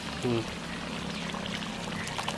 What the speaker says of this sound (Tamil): தேங்காய் பால் ஊற்றணும்